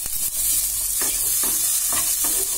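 Vegetables and paneer sizzle loudly in a hot pan as a spoon stirs them, steady frying hiss with a few scraping pushes, close and continuous, no voices.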